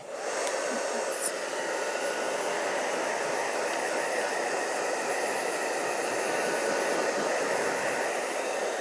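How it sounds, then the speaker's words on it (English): A hair dryer blows continuously with a steady, loud rushing whoosh and a faint whine, close by and unchanging throughout. "I'm going to hit this one with the hairdryer"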